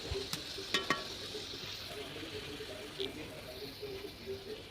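Fish and vegetable curry sizzles and fries steadily in a pan, with a few sharp clinks of a utensil against the metal near the start.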